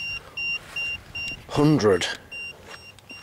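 EMF meter alarm beeping in a reportedly haunted asylum, short evenly spaced electronic beeps repeating, briefly interrupted by a spoken voice before the beeps resume.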